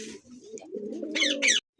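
Pigeons coo up close, soft throaty rolling calls ending in two brighter bursts before falling silent.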